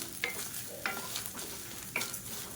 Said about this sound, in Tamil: இந்த மாதிரி கடலைப்பருப்பு வறுக்கணும்னா தான் சட்னி நல்லா வாசமாக இருக்கும்.